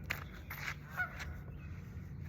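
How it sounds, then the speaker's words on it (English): An outdoor goose honks in a few short, faint calls against steady background noise, with no talking. "the goose literally barking at me"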